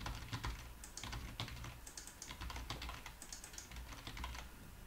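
Rapid typing on a computer keyboard, a steady stream of close, crisp key clicks with occasional louder keystrokes, heard alone with no voices.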